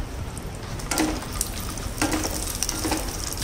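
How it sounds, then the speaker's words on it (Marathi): Cashews, almonds and raisins fry in ghee in a pan, a close, even sizzle broken by a few light clinks and scrapes as they are stirred. "हे आता छान तुपामध्ये परतून घ्यायचे"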